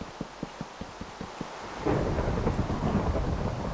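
Rain falls in the video game Minecraft, starting as a regular patter of separate drops, then a loud rush of steady rain and a rumbling thunder roll sweeps in about halfway through.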